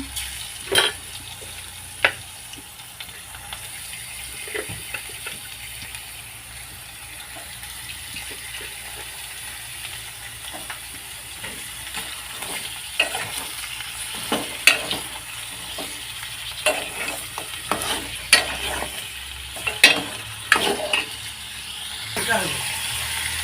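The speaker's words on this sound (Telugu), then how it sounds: "ఉల్లిగడ్డ, పచ్చిమిర్చి ఇలా ఫ్రై కావాలి ఫ్రెండ్స్." Onion and green chilli fry in a pan for a Telangana-style mutton curry, giving a continuous soft sizzle broken by scattered scraping and clinking from stirring, with a voice talking over it.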